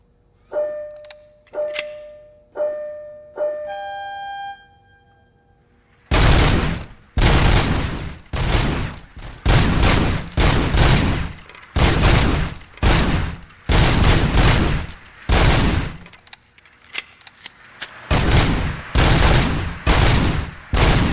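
Gunfire at a target practice range in the video game Robocop: Rogue City, with a few beeping tones first, then a long run of loud, heavy shots in quick, evenly spaced bursts.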